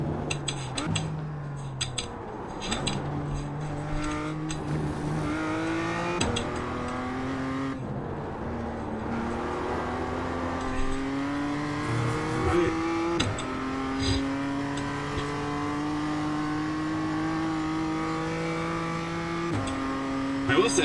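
A BMW M2 CSR races around Oulton Park in iRacing, its engine repeatedly revving up through the gears with downshifts into corners, loud and continuous, with a faint voice talking at points.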